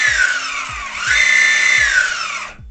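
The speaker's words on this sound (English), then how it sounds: "If you give it throttle on the controller after disconnecting, it should spin up." A DIY electric skateboard motor driven by a VESC controller whines steadily as throttle is applied, its pitch rising midway and then falling before it cuts off, with faint ticking underneath.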